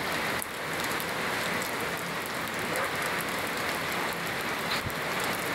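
Steady, heavy rain pours down continuously, a dense hiss of drops with no voices.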